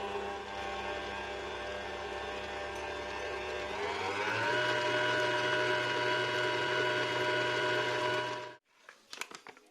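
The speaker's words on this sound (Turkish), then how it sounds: "250 gram tereyağını çırpıyorum" An electric mixer whips 250 grams of butter for tartolet dough, a loud steady motor whir that shifts up in pitch partway through, then cuts off abruptly, followed by a few faint knocks.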